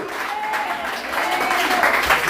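Applause from a gathered crowd, a busy steady patter of many hands with some voices mixed in beneath, lasting briefly.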